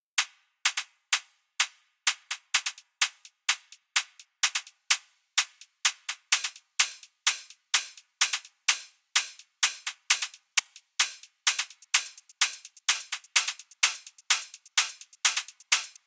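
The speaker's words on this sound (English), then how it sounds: "And then the hi-hats themselves, one by one, sound like this." Tech house hi-hats from a drum rack play in sequence, crisp ticking hits with long airy tails layering into a dense, driving off-beat pattern that grows busier as more layers join.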